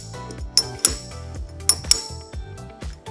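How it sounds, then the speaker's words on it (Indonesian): Dog ring of a dogbox racing gearbox, turned by hand, clunks into gear in a few sharp metallic clacks and clinks, close and moderately loud, spaced unevenly over a few seconds. "kenapa gigi dogbox itu kalau masuk tuh bunyi jeglek gitu"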